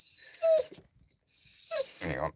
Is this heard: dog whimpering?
yes